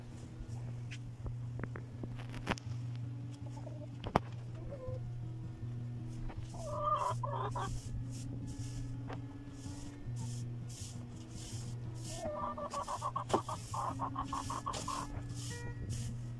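Chickens cluck and murmur in a coop shared with ducks and turkeys, soft close bursts of clucking rising twice over a constant low background hum, with occasional faint knocks.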